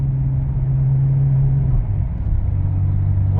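Ferrari engine running in fifth gear as the throttle is lifted and then reapplied, a steady loud low drone that dips briefly and picks back up, with no talking.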